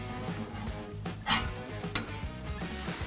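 A burger patty sizzles on an outdoor Sunterra grill right after being flipped, a steady close sizzle with a brief scrape and clatter of the spatula, over a low humming background.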